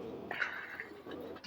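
A pigeon of the Lal Pari type coos softly a couple of times, faint and fairly close, with little else around.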